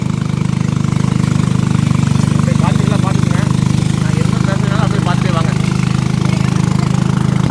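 A small motor boat used as the main transport near a tribal village on the India–Bangladesh border, its engine droning loud and steady throughout, with faint voices and bird-like chirps over the hum.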